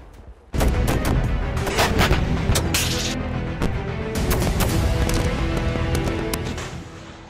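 Explosions and artillery fire in the Nagorno-Karabakh war, a sudden loud blast followed by several seconds of dense, sustained crackling and booming that slowly fades, no talking.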